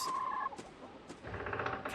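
A few soft clucks from chickens in the video game Dread Fields, brief and fairly quiet, with a tonal chirp at the start.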